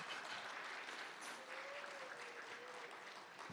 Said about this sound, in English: We can definitely applaud that.